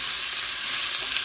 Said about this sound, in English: Just need to give this a bit of a stir.